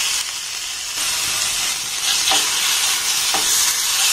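Ginger-garlic paste sizzles in hot oil with onion and chilli, a steady bright frying hiss broken by a few distinct spoon scrapes as the mixture is stirred, close and loud with no voice.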